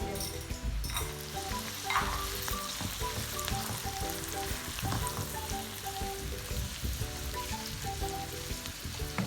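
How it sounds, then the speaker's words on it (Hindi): Egg frying with carrots and peas for egg fried rice, a steady close sizzle with stirring clatter running throughout, no voices. "और अब हम इसको गाजर मटर में ऐड करेंगे"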